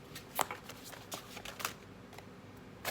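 Tarot cards being shuffled by hand, a soft quiet riffling and flicking with several light slaps, close and alone with no talk.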